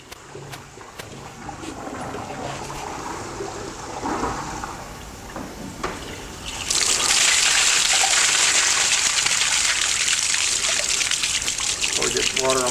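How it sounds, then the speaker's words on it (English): A toilet flush in a building's plumbing test rushes in loudly about halfway through, a broad surging torrent of water that runs steadily to the end, preceded by quieter trickling and background voices. "give me a flush from the water closet"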